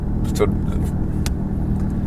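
A Porsche 997.2 GT3 RS fitted with a Sharkwerks bypass exhaust rumbles at a steady low idle, a constant deep drone continuing beneath someone talking close by.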